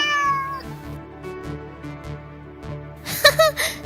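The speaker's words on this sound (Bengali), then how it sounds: "তুমি শুনলে তো আমার বিড়াল জবাব দিল।" A house cat gives a clear, close meow at the start, then a brief quiet stretch follows before another bright, louder meowing call near the end.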